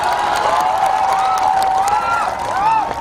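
Audience applause at a Bank Indonesia economic festival event in Cirebon, a steady loud wash of clapping and crowd noise throughout, with a voice and tonal music sounding over it.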